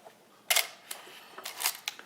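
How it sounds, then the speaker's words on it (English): An Olympus OM-1 film SLR, stopped down to f/16, gives a few quick, light mechanical clicks close by as its aperture snaps shut, with short pauses between them and no talking. "Set it to a small aperture like an f/16. You should be able to see the aperture clicking shut."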